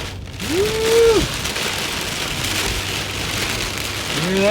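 Heavy rain pelts a car roof and windshield in a steady broadband wash during a storm, heard from inside the vehicle while out on delivery driving, with faint tonal chirps mixed in.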